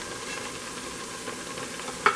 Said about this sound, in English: Get that frying. Really hot.